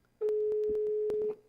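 A telephone ringback tone sounds as one steady electronic beep of a little over a second, loud and clear, with faint clicks and background noise around it.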